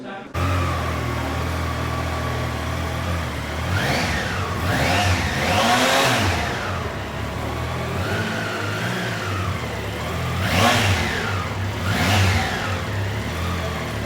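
Triumph Trident 660 three-cylinder motorcycle starting up close by, settling into idle, then revved several times with rising and falling blips.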